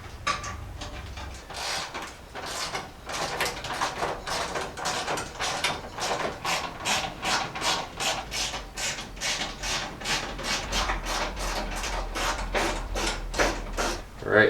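Ratcheting as 5/16 hardware is bolted down on a Jeep J10 during a cooling system rebuild, steady rhythmic clicking strokes repeating close up with no talk.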